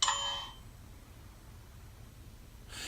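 A stop request bell from a Tsunami2 electric sound decoder rings with a short, bright ding at the start and again at the end, with near silence between.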